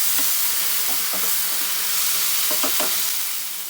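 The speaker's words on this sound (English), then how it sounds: "This we will fry till the tomatoes are soft" Tomatoes with salt frying in a pan for mixed vegetable sambar, a strong continuous sizzle and hiss with a few scraping stirs of a spoon breaking in, close and loud, no speech.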